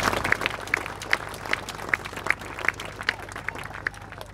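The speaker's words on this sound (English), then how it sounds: "They can get a clap while I retire." An outdoor audience applauds at a sports field opening ceremony, a modest scattered clapping from a crowd, with distinct individual claps standing out over a low steady background hum.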